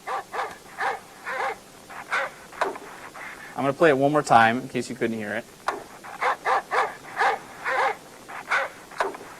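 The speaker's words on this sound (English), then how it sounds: "There's some weird bumping in there, but it's a dog." A tame dog barks in a steady run of sharp, evenly spaced barks with some odd bumping sounds, while someone talks over part of it.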